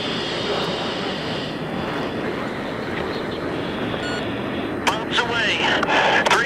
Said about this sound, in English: there are aircraft coming out of the hardened bunkers. They're trying to take off.